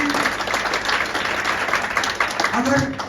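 An audience at a stage event in a hotel in Digha claps in a dense, continuous wash of applause that holds steady throughout, with a voice over it.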